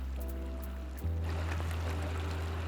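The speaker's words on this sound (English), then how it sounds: "it makes a water flowing noise" Flowing water from a water feature in the video game FFXIV, a steady soft trickling stream under a low tonal hum, constant and fairly quiet, with no talking.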